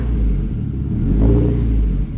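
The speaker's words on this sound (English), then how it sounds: "Maybe we should give it just a little bit of throttle." A Saab 9-5 Aero with a rebuilt engine idles in a deep close rumble, then rises briefly under a light blip of throttle before settling back.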